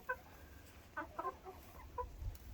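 Bantam chickens outdoors on a farm after freezing rain give soft, scattered clucks in short clusters over faint wind and background noise, fairly quiet and at a moderate distance.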